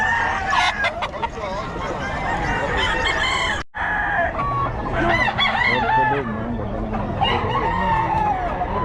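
Roosters crow loudly and repeatedly while chickens cluck around them at a fowl sale in Bocaue, the birds close and busy with a brief break partway through; someone speaks in the background.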